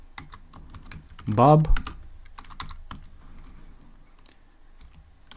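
A programmer types code on a computer keyboard, scattered light key clicks running through the stretch under a brief spoken word.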